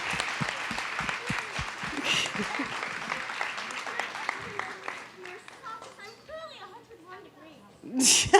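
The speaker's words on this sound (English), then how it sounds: "Let's give them another round of applause, please." An audience at a school district work session claps for schoolchildren, a sustained round of applause that gradually thins while children's voices and chatter rise over it.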